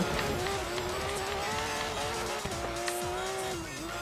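A race car drives and its tires squeal in the video game Forza Horizon 3, a loud continuous engine drone with shifting pitch and repeated skidding squeals throughout.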